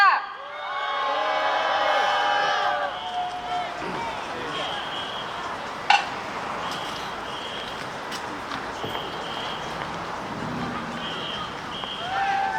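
A crowd at a cold-weather candlelight protest rally in Incheon applauds and cheers, loudest at the start then thinning into scattered clapping and murmurs, with a sharp clap or knock midway.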